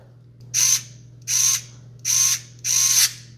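Four evenly spaced, loud ratcheting whirs of a powered screwdriver driving screws into a PC graphics card bracket, each burst about a third of a second with short pauses between, alone over a steady low hum.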